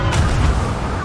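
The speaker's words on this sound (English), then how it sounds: "Can you shoot a cannon shot?" A ship's cannon fires in the pirate game Sea of Thieves, one loud, deep, booming blast with a rumbling tail that stays close and dominant throughout.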